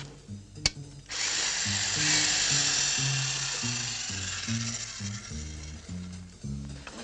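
A drill runs steadily for several seconds after a sharp click, a continuous high whine with a low stepped tonal pattern beneath, loud and close with no speech.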